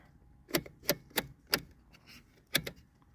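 A Magnavox color television's switch-type channel tuner clicks six times up close, crisp mechanical snaps at an uneven pace with short quiet gaps between them and no voices.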